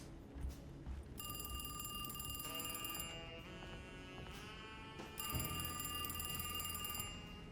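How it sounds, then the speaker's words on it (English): An old telephone rings in the survival-horror video game Alone in the Dark, its bright, shrill electric bell sounding in two long bursts separated by a short pause. It plays alone with no talk, over a low ambient rumble. "And now we gotta go answer the phone."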